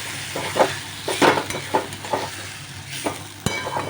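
Lentils fry and sizzle in a pan while being stirred, with scraping strokes coming in uneven bursts over a steady sizzle.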